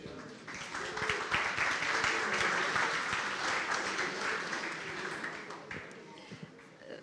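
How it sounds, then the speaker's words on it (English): An audience applauds a speaker at a talk on building a recommendation system, steady clapping from a crowd that holds for about seven seconds before tapering slightly, with some voices mixed in. "everyone, round of applause"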